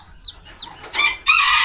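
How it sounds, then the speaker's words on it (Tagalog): Brooding hens on a farm give soft clucks and rising squawks, a few short calls building to louder, harsher clucking near the end, close by with no speech over them. "dito naman sa ating mga naglilimlim na manok, yan, lilimlim na siya"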